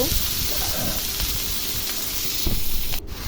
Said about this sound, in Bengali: এখন এই যে সবজিগুলো দিয়ে দিলাম, এখন হলুদ মরিচ লবণ দিয়ে ভালো করে সবজিটা কষিয়ে নিব।